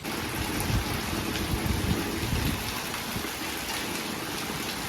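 Steady rain pours down in the mountains near Kedarnath, Uttarakhand, a dense continuous patter and hiss on surfaces, close and fairly loud with no voices.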